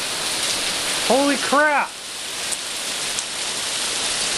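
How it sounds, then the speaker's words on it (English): Heavy rain pours down in a dense, constant hiss throughout, while a voice exclaims loudly near the start. "Make it stop, please! Stop raining!"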